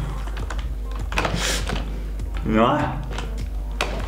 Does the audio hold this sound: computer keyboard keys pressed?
yes